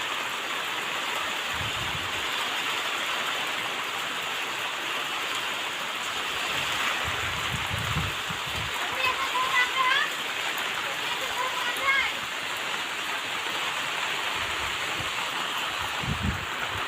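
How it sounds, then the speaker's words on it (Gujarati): Steady rain falls in a dense, even hiss that runs the whole time, with a few brief low thumps and faint drips here and there. "કોને કોને અહીંયા કેવો કેવો વરસાદ પડે છે"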